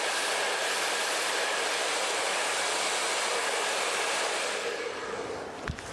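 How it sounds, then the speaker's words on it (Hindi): A hair dryer blows on the ends of curly hair with a loud, steady, close whooshing roar that holds almost unchanged, then eases slightly at the very end. "हमें एंड्स पे ड्रायर करना है"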